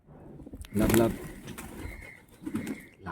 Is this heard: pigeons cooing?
yes